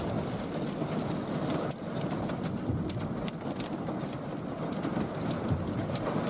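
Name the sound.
pea- to nickel-sized hail falling, sounding like sleet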